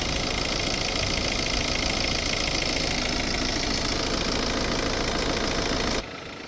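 A Toyota Avensis diesel engine runs steadily at idle with a constant, close mechanical rumble and knock while a compressor pushes fluid through the particulate filter, then the level drops abruptly near the end.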